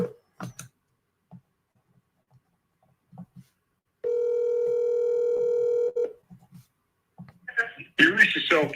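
A telephone ringing tone plays during an outgoing call, a single steady electronic tone lasting about two seconds between quiet stretches, followed by brief voice sounds and clatter near the end.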